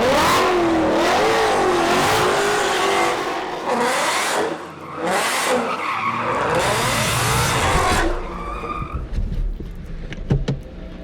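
A car in a 2020 GT500 swap spins donuts, with loud, close tire squeal swelling and wavering over a revving engine in repeated surges before easing off into rumbling and scuffing.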